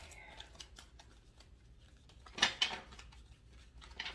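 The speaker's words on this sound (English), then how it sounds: "I'm just going to give the cards a good shuffle." Tarot cards are shuffled by hand during a quiet weekly reading, a soft papery riffle with a couple of louder flurries midway, close up and alone.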